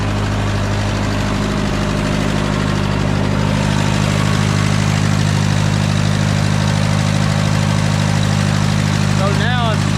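An Allis-Chalmers B tractor engine idles steadily and loudly with its fuel shut off, running on what is left in the carburetor: an even, continuous mechanical chug with no breaks, and a brief faint chirp near the end.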